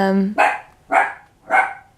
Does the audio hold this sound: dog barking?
yes